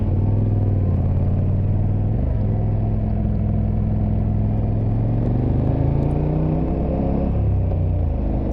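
KTM 1290 Super Adventure motorcycle climbing a Norwegian mountain pass, its engine a loud, steady low rumble with pitch shifting up and down through gear changes, heard close and continuous.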